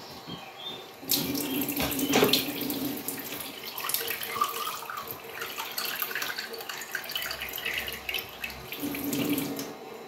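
Water runs steadily from a tap for several seconds, a continuous splashing hiss into a sink, loud and close.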